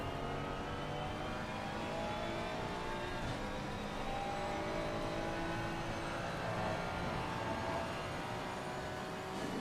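Race car engine in a sim-racing video game lap, droning loudly and steadily throughout with shifting revs and no talk.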